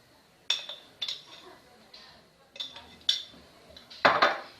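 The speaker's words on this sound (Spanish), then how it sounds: "Y voy a mezclar" A spoon stirs baking soda into homemade white glue in a pot, making a series of irregular close scrapes and clinks against the metal, with a louder rattling burst near the end.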